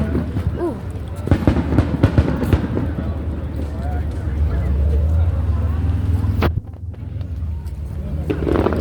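Fireworks pop and crackle outdoors in a quick cluster of sharp bangs early on. After that comes rumbling wind and engine noise, with people chatting nearby and a sudden cut near the end.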